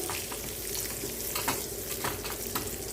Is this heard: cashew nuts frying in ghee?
yes